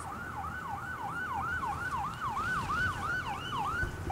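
An ambulance siren from the video game Urban Chaos: Riot Response wails in a steady, rapidly repeating up-and-down cycle, loud and continuous throughout with a faint road-vehicle rumble beneath.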